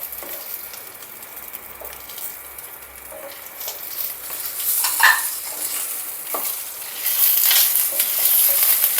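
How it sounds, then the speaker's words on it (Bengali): Curry leaves crackle and sizzle in hot oil in a pan, close and lively, the spattering growing louder and denser partway through as they fry. "এখন এটার মধ্যে আমি কয়েকটা কারি পাতা দেব"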